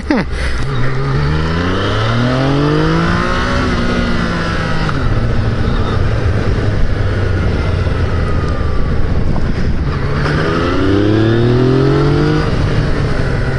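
A Yamaha FZ-09 naked motorcycle accelerates hard on a road test ride, its engine note climbing through the gears with rising and falling revs, loud and close throughout with steady wind rush.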